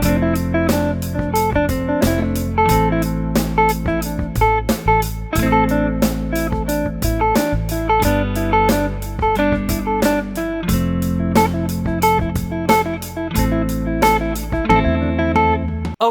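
An electric guitar with distortion plays a fast, continuous solo phrase of rapid picked notes over a sustained bass tone, loud and busy throughout.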